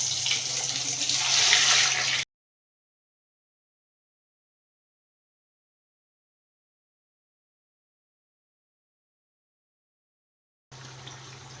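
Paneer cubes dropped into hot oil give a dense, fairly loud sizzle for about two seconds. Then the sound cuts to silence, and a softer sizzle returns briefly at the very end.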